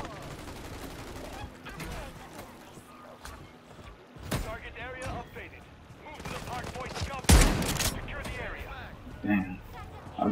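Gunfire in Call of Duty, bursts and single shots of varying distance scattered through the moment, heard under a player's frequent talking.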